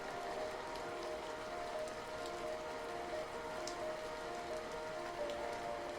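Looped rain recording playing steadily at low level, a continuous soft hiss of rain on a surface with faint tonal hum beneath and no pauses.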